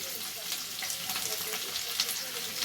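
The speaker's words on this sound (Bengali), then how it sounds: "এবার তেলটা গরম হয়ে গেছে, এর মধ্যে আমি খানিকটা পেঁয়াজ কুচি দিয়ে দিচ্ছি" Chopped onion sizzles steadily in hot oil, a dense even crackle running through the short stretch with faint background murmur and no clear talk.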